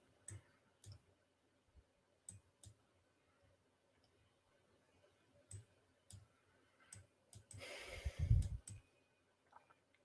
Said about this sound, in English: you can hear me clicking my mouse